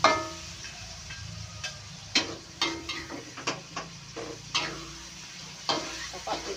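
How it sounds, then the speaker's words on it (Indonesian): Shrimp being stir-fried in a pan: repeated spatula scrapes and clatters come in an uneven rhythm over a faint, soft sizzle, close by. "Pokok ditumis dhisik kurangnya sampai bener-bener mateng"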